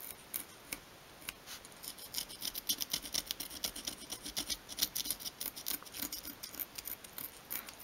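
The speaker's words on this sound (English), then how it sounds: "take your scribe and just using it like a pencil, just go over that line, just scoring it into the wood" A metal scribe, held like a pencil, scores a line into a small wooden piece for a 1/12th scale magazine rack, making quiet, repeated scratchy strokes in an uneven rhythm, close and fairly soft.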